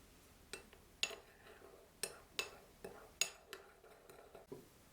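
A spoon stirs dark soy sauce, oyster sauce, salt and ground pepper in a bowl, making about ten light, sharp clinks in an uneven rhythm, close by.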